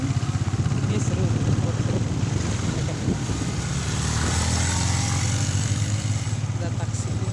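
A motorcycle engine drones steadily as it is ridden on a dusty road trip toward Sorong. A low, even throb sits close and loud throughout, with road and wind noise mixed in.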